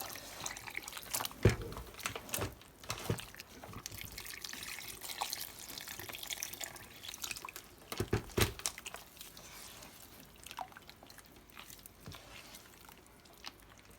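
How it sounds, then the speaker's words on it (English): Banku flour mixed by hand with lukewarm water in a bowl, a close, continuous wet squelching and sloshing with irregular splashes and sharper slaps throughout, with no talking. "I'll mix it with lukewarm water, not too cold and not too hot."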